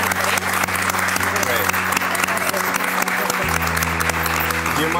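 A television studio audience applauds in a continuous, loud, dense burst of clapping that fills the whole stretch, with a voice speaking over it.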